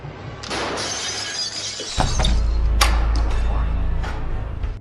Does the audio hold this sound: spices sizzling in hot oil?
no